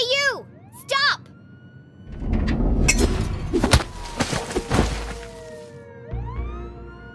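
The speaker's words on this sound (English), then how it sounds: "Jenny could hear police sirens in the distance." Police sirens from the video game Jenny LeClue wail with rising and falling tones, preceded by short sharp calls and backed by bursts of dramatic commotion and music, the siren sweeps returning near the end.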